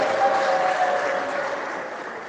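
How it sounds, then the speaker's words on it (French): A church congregation at Sunday Mass applauds together in a steady, dense wash of clapping that holds even and eases slightly toward the end. "Applaudissons pour Jésus."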